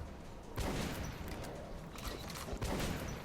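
Video game shotgun fire in a zombie survival shooter, dense bursts of blasts at about 0.6 and 2.6 seconds with continuous gunfire and chaotic combat noise between them, loud and close.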